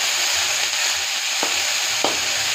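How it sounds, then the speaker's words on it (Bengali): Chopped tomatoes added to a pan of fried onions sizzle in a steady close hiss, broken by a couple of sharp spatula scrapes and taps. "এবার দিয়ে দিলাম টমেটো কুচি।"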